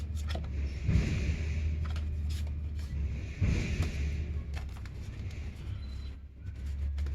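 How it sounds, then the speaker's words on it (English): A new, oversized deck of reading cards is shuffled by hand in a steady, close rustle, with two fuller riffling bursts standing out among the softer sliding and rubbing. "Shuffle it up."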